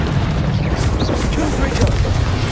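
The Descendo spell cast during combat in Hogwarts Legacy on PS5, a dense, loud magical slam with booming low rumble amid continuous busy battle noise.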